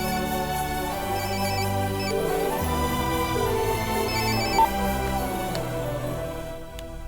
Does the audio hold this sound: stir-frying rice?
no